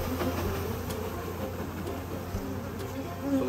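A dense mass of honey bees hums steadily at a beekeeping yard rearing queens, with a continuous low drone filling the background and no talk.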